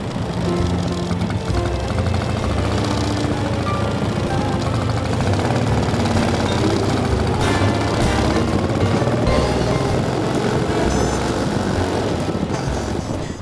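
A Morgan sports car's engine drones steadily from inside the open cabin while it is driven, with constant rumble and wind noise and no clear changes in pace.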